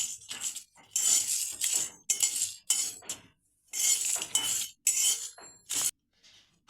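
Coriander, black pepper, cloves and a bay leaf are stirred in a pan. A spoon clinks and scrapes against the metal in short, uneven bursts with pauses between, close and fairly quiet, with no talking.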